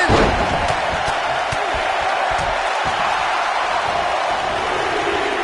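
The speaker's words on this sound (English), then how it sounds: "Listen to this crowd count the next one in." Wrestling video game arena crowd roaring in a dense, steady wash of cheering with sharp slams and shouts rising through it, loud and continuous throughout.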